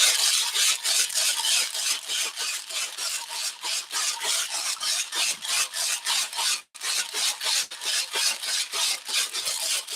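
Coffee grounds being stirred and mixed in an open vessel to homogenize a blend, making a steady rhythmic rasping scrape with regular strokes, fairly quiet and close, with one brief pause midway.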